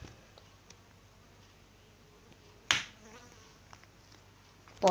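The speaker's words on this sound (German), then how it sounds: "Boah, diese Fliege, ne?" A housefly buzzes close to the microphone, its faint droning hum flickering in and out before a sharper burst midway and another at the end.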